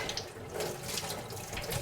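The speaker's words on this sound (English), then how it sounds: "I'm going to use as hot of water as I can from the tap" Hot water gushes steadily from a tap into a bucket, a continuous close splashing rush with no one speaking.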